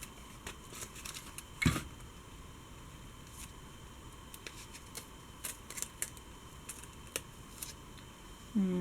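Tape is pulled and pressed around a paper doll stand in a close, quiet series of short crackling tears and rubs, with one louder rip near the start and small handling taps throughout.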